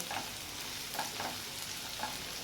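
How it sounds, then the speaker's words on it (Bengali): Onions fry in hot oil in a pan with a steady, quiet sizzle, punctuated by a few soft stirring clinks, with no voices. "পেঁয়াজটা আমি ভেজে নেব"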